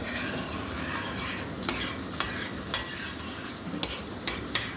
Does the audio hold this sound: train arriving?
no